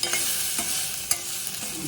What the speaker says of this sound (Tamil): அந்த தேங்காவுடைய பச்சை ஸ்மெல்லு போகிற வரைக்கும் மட்டும் வதக்கிறோம்